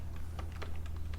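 Keys are typed on a computer keyboard in a quick, uneven patter of soft taps over a low hum, heard close and alone without speech.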